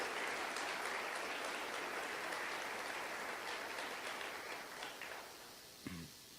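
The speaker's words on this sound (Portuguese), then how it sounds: "Se é para aplaudir ao Senhor, aplauda com vontade, em nome de Jesus." A church congregation applauds during a service. Sustained dense clapping rolls on for about five seconds, then tapers off, with a brief voice near the end.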